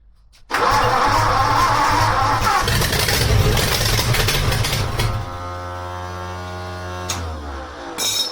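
An Oliver Roadster engine with a badly leaking carburetor cranks and catches, then runs loudly and roughly before settling into a steady idle with a clear harmonic drone.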